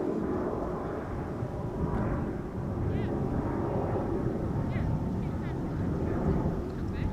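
A Finnair Airbus A350 airliner approaching the Polderbaan runway at Schiphol, a broad, heavy rumble of jet engines that holds steady throughout, with people talking over it and wind buffeting the microphone.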